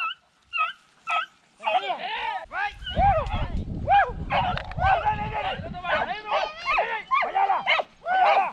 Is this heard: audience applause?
no